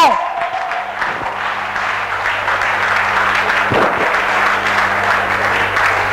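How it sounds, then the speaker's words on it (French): Loud, sustained applause and cheering from a crowd at a training seminar gathering, a dense wash of clapping with steady low hum beneath and a few knocks. "je vais demander au peuple de le recevoir avec des acclamations"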